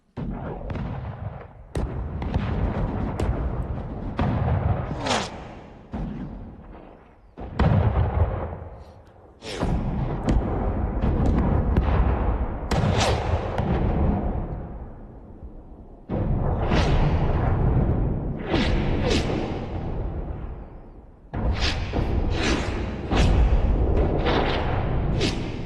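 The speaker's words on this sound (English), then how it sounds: "have these whooshes come from far back right and then fly around and go up towards the front left" Layered cannon blasts and rushing whooshes in a Pirates of the Caribbean: At Worlds End battle scene, a series of heavy booming shots with rumbling tails and sweeping swooshes arriving in loud bursts separated by short gaps.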